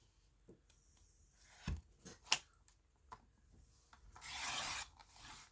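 A paper trimmer slices a sheet of paper: a few soft taps and knocks, then one sustained rasping cut near the end, close and fairly quiet.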